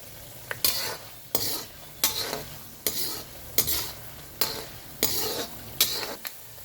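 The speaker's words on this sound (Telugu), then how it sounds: "ఆవాలు వేస్తున్నాను" Half a spoon of mustard seeds added to hot oil while making semiya, heard as loud bursts of sizzling and spluttering that swell and fade in a regular rhythm about every 0.7 seconds with stirring, close up.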